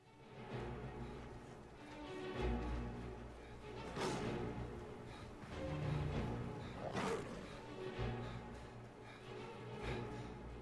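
A Snow Saber Cat in Skyrim lets out a few distinct growling roars, with quieter ambient game noise between them and faint combat sounds in the background.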